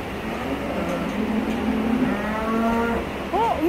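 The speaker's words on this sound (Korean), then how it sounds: "어? 음메 한다, 그치?" A cow moos on a farm, a long low drawn-out call followed by a rising bellow, moderately close amid steady outdoor background noise.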